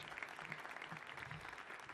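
A theater audience claps warmly to welcome a performer onstage, a dense, even patter of many hands at moderate distance, sustained and alone.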